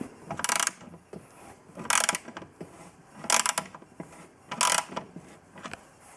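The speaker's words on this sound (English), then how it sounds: "to undo that bolt there. But it is now coming loose. Just easing it out." A ratchet spanner works a bolt loose on a Lotus Excel pop-up headlight mechanism held in a vise, four bursts of rapid clicking ratcheting in a steady rhythm with quiet pauses between them.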